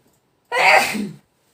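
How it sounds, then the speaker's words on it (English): A single close, sharp sneeze bursts out after a moment of quiet during a cross-stitching session and fades quickly. "Oh, sorry, I'm gonna sneeze."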